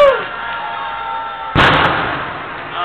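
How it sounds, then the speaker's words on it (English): Fourth of July fireworks burst overhead in Chicago, a loud boom cutting through a steady wash of crowd and street noise, followed by a long rumbling tail. "Look at these fucking fireworks."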